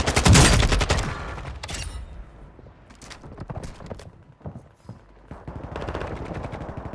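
Sniper fire in the online shooter Warzone: a loud burst of gunfire in the first second, then scattered sharp shots and clatter in the following seconds, with a fuller rush of noise near the end.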